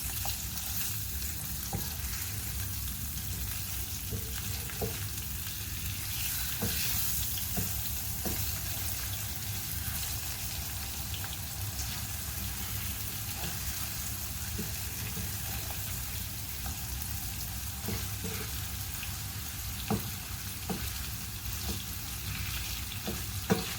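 Kingfish slices fry in a pan in a steady, loud, close sizzle that hisses on throughout, with scattered clicks and taps as the fish is turned over, and no voices.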